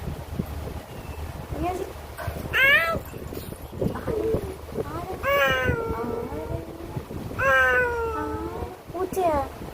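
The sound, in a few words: cat meowing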